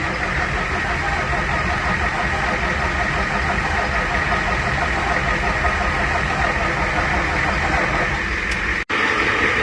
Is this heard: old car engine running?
yes